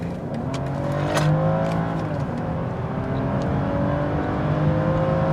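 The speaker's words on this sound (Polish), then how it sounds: "zrobimy kickdown 50, 120" A BMW X5 (G05) plug-in hybrid SUV accelerating hard on kickdown, with a loud, sustained engine roar that climbs steadily in pitch. It is heard close up, with no talking.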